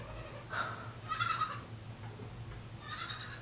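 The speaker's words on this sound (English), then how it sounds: "I can't get anything done with this freaking goat" A goat bleats three times nearby, short wavering cries spaced about a second apart, over a low steady indoor hum.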